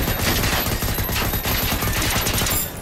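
Dense, continuous bursts of rapid video game gunfire, loud and close, forming an unbroken automatic-weapon fusillade with no talking over it.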